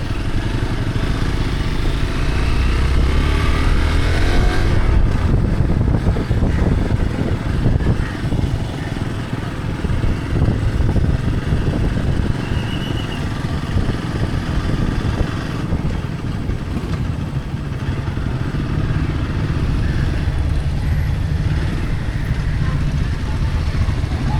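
A motorcycle engine drones loudly and close on a road ride from Mumbai to Harihareshwar, holding a continuous rumble with wind rush throughout.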